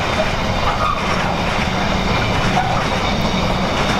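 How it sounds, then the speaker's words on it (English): A long Freightliner container freight train rolls past at Leamington, a loud, steady rumble of wagons with a continuous rattle of wheels on track and occasional faint squeals. "I'm showing you all the length of the Freightliners for a couple of trains here"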